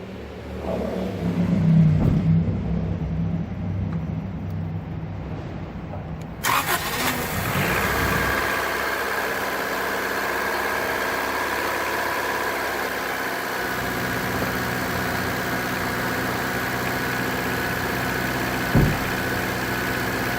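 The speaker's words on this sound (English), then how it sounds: "let's start the car" A Honda CRX engine cold-starts with a sharp crank and catch, then settles into a steady, even idle that runs on for many seconds, close and unbroken, with a brief click near the end.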